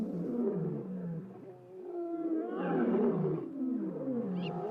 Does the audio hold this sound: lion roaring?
yes